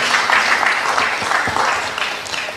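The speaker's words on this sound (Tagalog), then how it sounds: "Palakpak po sa Panginoon." A church congregation applauds during a worship service: dense, steady clapping from many hands, fairly loud and continuous, easing slightly toward the end.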